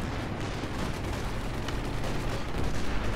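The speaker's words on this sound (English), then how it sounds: "the allies are grinding this one out with their tremendous amount of rocket artillery" Rocket artillery barrages in Company of Heroes 2 during a 3v3 match form a dense, continuous rumble of launches and impacts that holds loud and steady throughout, with no talk over it.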